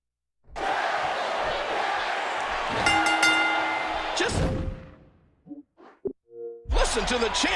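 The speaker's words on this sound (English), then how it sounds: "Listen to the chants from this sellout crowd for Daniel Bryan." Sellout arena crowd at a WWE wrestling event chanting for Daniel Bryan, a dense, sustained roar with rhythmic chanting and a few sharp cracks, loud and close, cutting off abruptly before brief scattered noises.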